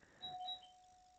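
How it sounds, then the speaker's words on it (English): A doorbell rings once with a clear two-tone chime, faint and distant and then lingering in a steady ringing tone, with no talk over it. "oh my god, the doorbell."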